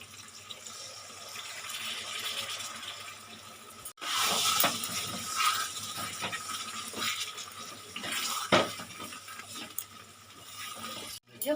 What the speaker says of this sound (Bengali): সুন্দরভাবে কষানো হয়ে গেছে আমি দেব অল্প পরিমাণে জল